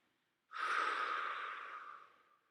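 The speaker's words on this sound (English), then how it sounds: "Breathe out." A single long, audible exhale during a yoga stretch, close and breathy, swelling quickly then fading over about two seconds in a quiet room.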